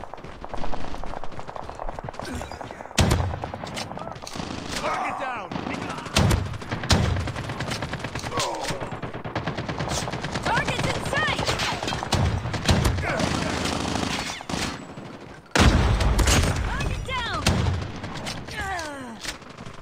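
Gunfire in the video game COD Mobile crackles in rapid automatic bursts and scattered single shots across close-range fights, with a player talking intermittently beneath the shooting.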